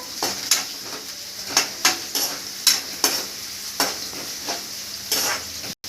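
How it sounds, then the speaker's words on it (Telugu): Onion frying in hot oil in a kadai: a steady sizzle punctuated by sharp, irregular stirring scrapes and taps of a spoon on the pan, close up, with no voices. "ఈ కళాయిలో వేసిన ఆయిల్ నాకు వేడెక్కింది ఇందులో నేను ఉల్లిపాయ వేసాను"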